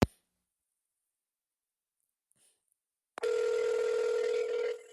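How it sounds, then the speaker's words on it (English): A telephone ring tone comes in after a few seconds of near silence, a steady electronic ringing with a strong sustained pitch, clear and close, holding to the end with no voices over it. "there his phone is ringing all the way in Texas"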